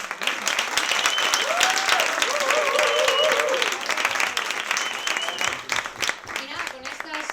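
Audience applause for two guest speakers at a careers-guidance conference, a steady wash of clapping that holds for several seconds, with voices and a few cheers rising through it before it thins out.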